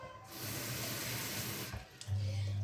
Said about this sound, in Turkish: Suyunu koyacağım.